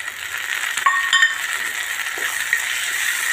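Tomatoes dropped into a pan of frying onions give a steady hiss and sizzle with a few soft clinks of a stirring utensil, close and moderately loud.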